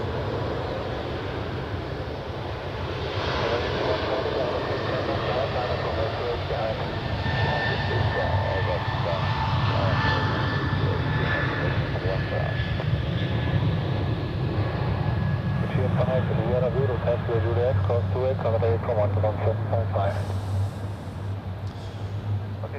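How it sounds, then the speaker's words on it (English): Air Baltic A220 jet departing Zurich Airport: a sustained engine roar building and holding as the aircraft rolls and climbs, with a steady whine and low rumble, fairly near. "That was Air Baltic A220 off to Lisbon."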